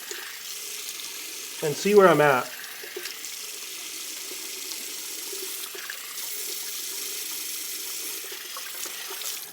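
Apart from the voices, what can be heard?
tap water running for a cold rinse while shaving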